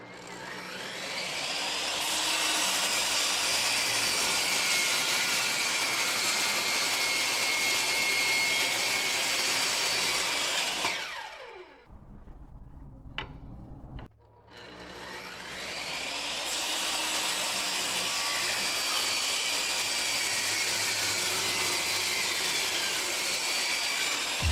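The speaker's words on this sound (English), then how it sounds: "I can just run them all through my planer." A thickness planer feeds wooden boards for pizza peels, its loud, roaring drone running continuously. It breaks off for a few seconds of near-quiet with small clunks, then roars through a second pass.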